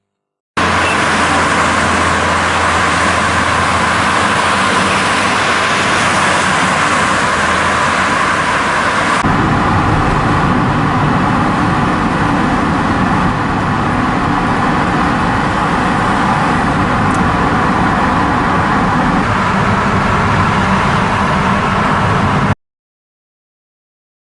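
Motorway traffic of trucks, buses and cars near the Bolu tunnel on the Istanbul-bound carriageway makes a loud, continuous roar that shifts tone partway through, with no voices.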